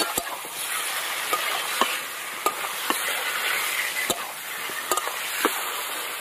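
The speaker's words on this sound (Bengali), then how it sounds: "দই আর তার সাথে ভাজা মশলা, তেল আর হলুদ আছে আর লবণ দিয়ে এবার নাড়বো।" Marinated chicken with yogurt, fried spices, oil, turmeric and salt being stirred in a pan: a soft, continuous hiss broken by sharp, irregular spatula clicks and scrapes close by.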